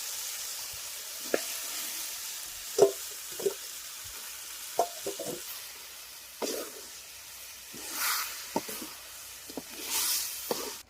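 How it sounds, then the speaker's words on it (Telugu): Marinated chicken for chintakaya (tender tamarind) chicken sizzles gently in a pan, broken by intermittent scraping clicks of stirring and a few louder hissing bursts toward the end, with no talking. "మనం అరగంటకు ముందుగా ఊరబెట్టిన చికెను వేసి కలుపుకున్నాం బాగా."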